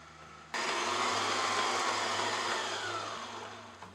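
An electric mixer kneading bagel dough with flour being added, starting abruptly into a loud steady whir that slowly fades before a small knock near the end.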